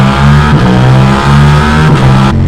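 Ducati Diavel V4 motorcycle fitted with an Akrapovic full race exhaust, revving loud and close in repeated throttle blips with a deep, throaty V4 tone, rising and falling several times, with no voices.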